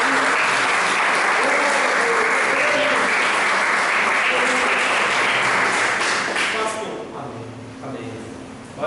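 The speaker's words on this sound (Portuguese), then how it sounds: "dá uma linda salva de palmas para o Senhor" A church congregation applauds the Lord during a Brazilian worship service, loud continuous clapping with music and voices underneath, dying away after several seconds into quieter talk and music.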